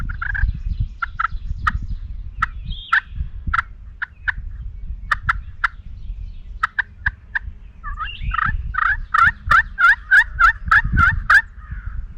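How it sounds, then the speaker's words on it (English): Distant wild turkeys in Wisconsin call repeatedly in a series of short, rapid yelps and gobbles, growing more frequent toward the end, over a low outdoor rumble. "I want them to gobble again."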